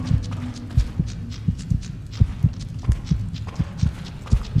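Heartbeat of the main character in the indie horror game The Light Remake, a repeated low thudding pulse in a loose steady rhythm over a dark ambient hum.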